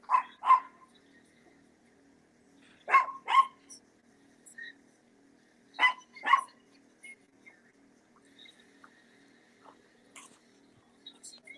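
Dogs barking in three paired bursts, a couple of sharp barks at a time, fairly close, with quiet gaps and faint background noise between.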